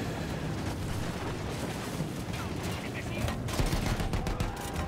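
Battlefield 1 gunfire crackles as a steady, dense barrage of distant shots and rumbling battle noise, with someone talking over it throughout.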